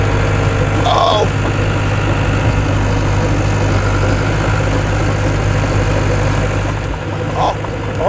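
A bulldozer engine runs steadily and loud at close range, a low continuous drone as the lowered blade pushes dirt, with faint talking over it now and then.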